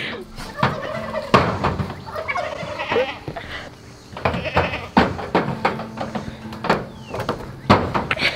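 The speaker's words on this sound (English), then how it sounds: "Oh, goats are so funny." A goat bleats in several loud, close calls with short pauses between them, mixed with other rough animal cries and shuffling noises.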